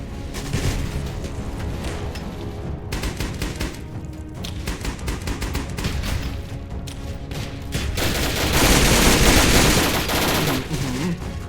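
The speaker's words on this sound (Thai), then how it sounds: "มันยิงกดออกมายับเลยครับผม" Rapid video game gunfire in dense, overlapping bursts, loud and continuous throughout, swelling heavier toward the end.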